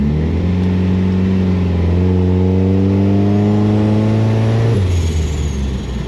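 Volkswagen Beetle engine revving close by, a loud steady mid-pitched drone that climbs through held revs then drops sharply near the end, heard alone.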